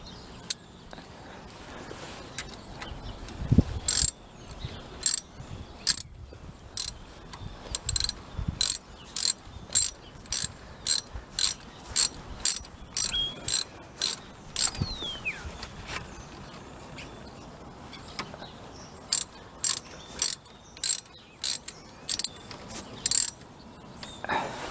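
A ratchet tightens the front brake bolts on a Renault Megane, with sharp clicking strokes in irregular bursts, close and distinct over a quiet background.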